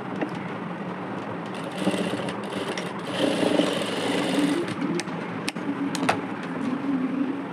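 A sewing machine runs steadily while stitching a blouse side seam, its close, even mechanical whir punctuated by a few small clicks and taps.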